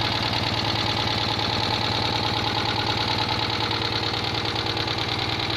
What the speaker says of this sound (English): Perhaps a little bit tappy because I've got the valve clearances set fairly loose.